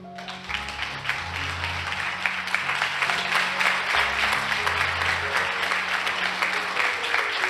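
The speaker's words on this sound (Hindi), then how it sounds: "तालियां बजाइए।" A congregation at a Hindi fasting sermon breaks into sustained applause, dense clapping rising and holding steady for several seconds, with some hum of voices underneath.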